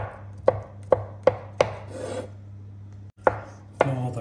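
A knife chopping celery on a cutting board for Czech Vlašský salát, six sharp close thuds at a fairly even pace with a short pause before the last two, no talking.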